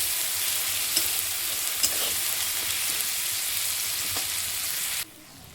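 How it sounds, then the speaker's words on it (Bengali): Ginger-garlic paste and onions stirred in a hot pan while cooking lotta fish, a broad steady frying hiss with a few light scrapes, close and loud before cutting off abruptly near the end. "আদা বাটাটা দিয়ে আমি আবার একটু আদা রসুন একসঙ্গে নাড়াচাড়া করে নেব"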